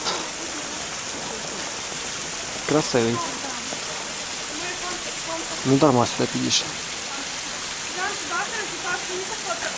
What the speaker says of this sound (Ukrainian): водоспад.